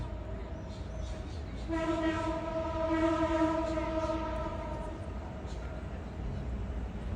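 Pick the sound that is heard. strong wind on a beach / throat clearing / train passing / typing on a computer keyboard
train passing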